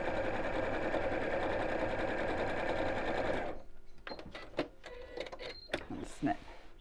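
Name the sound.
sewing machine stitching a pocket seam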